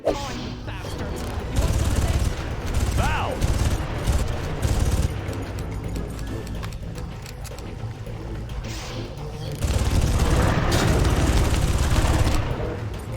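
Gunfire in the video game Far Cry comes in bursts and volleys, loud and close with some heavier booms, while a voice talks over parts of the fighting.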